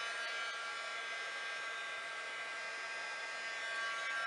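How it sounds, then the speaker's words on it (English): An embossing heat tool blows hot air in a steady, even whoosh, close and unbroken from start to finish. "Take your heat tool,"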